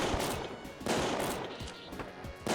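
Dual pistols firing in a video game, several sharp shots in quick bursts with short gaps between them, close and fairly loud.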